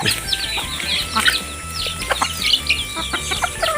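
Backyard chickens, including Decal Brown and native birds, cluck and squawk in short repeated bursts close by, several calling over one another with a faint voice underneath.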